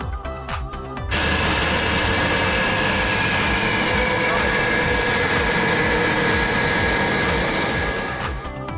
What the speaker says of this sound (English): And now it's time to feel the roar of the engines.